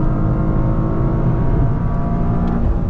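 A 2023 Toyota GR Corolla's engine drones steadily from inside the cabin while driving in track mode, a loud, subdued, even hum with a faint rising whir near the end.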